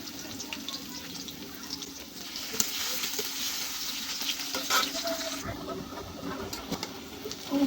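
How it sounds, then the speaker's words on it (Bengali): Finely chopped garlic fries in hot oil until it turns reddish, giving a steady close-up sizzle with stirring scrapes and a brief watery rush near the end. "আমার রসুনটা একটু লাল লাল ভাজা হয়ে গেছে"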